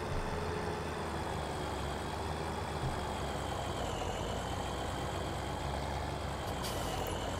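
Steady engine drone of a combine harvester in Farming Simulator 2017, a constant low rumble holding evenly throughout with a brief hiss near the end, no talking.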